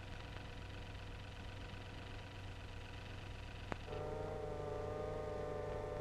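A turret traverse motor starts up inside an M4 tank, its steady electric whine joining the low engine hum around midway after a sharp click, then holding even and close with no talk.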